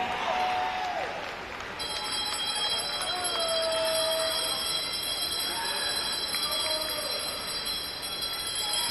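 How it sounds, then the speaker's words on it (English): Bells ring repeatedly at a swimming race to signal the final lap, bright sustained metallic tones over a steady roar of crowd cheering and applause in a large pool hall. "More bells ringing all around."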